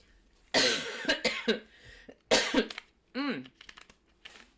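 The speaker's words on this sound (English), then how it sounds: "Sorry about all the coughing." Several harsh coughs come in two close bursts, followed by a brief throat-clearing sound, near and fairly loud in a quiet room.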